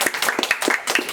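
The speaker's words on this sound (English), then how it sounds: "Shall we give him a big round of applause?" Quick, fairly close clapping from a small school group, brief and uneven with individual hand claps standing out, recorded during a dental oral-health session in a classroom.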